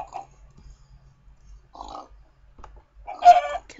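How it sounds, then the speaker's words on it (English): Clucks from a Minecraft chicken come in a few separate bursts, the last one loudest and busiest as it gets struck, over soft blocky footsteps. "Kill this chicken too."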